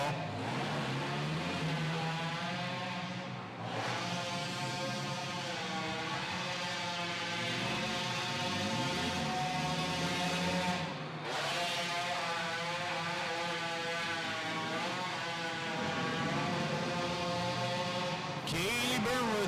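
Youth ATVs racing on a dirt track at a girls' evening race: a continuous, loud buzzing whine of small engines rises and falls as they pass, with brief dips between laps.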